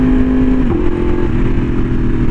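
A Yamaha R1M sport bike fitted with an SC Project exhaust rumbles loud and close while riding scenic twisty roads, its engine note steady with a brief pitch drop as the rider eases off.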